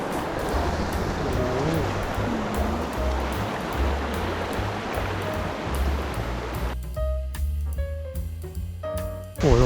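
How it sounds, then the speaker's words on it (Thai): A waterfall rushes steadily inside a flood-scoured cave with stalactites and stalagmites, a broad continuous roar over the low hum of a boat engine, with faint voices near the end. "มีน้ำตกด้วย"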